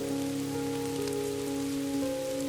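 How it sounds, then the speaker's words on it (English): Rain patters steadily against the windows of a cozy cabin, a dense continuous spatter with a steady low hum running underneath and no voices. "Raindrops softly danced against the windows."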